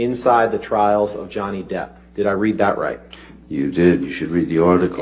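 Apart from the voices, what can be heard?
None of the usual background noises is heard.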